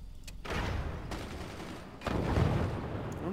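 Mortars firing in the physics strategy game Forts: dense, muffled thumping bursts that run together into a steady barrage, fairly quiet, with no one talking.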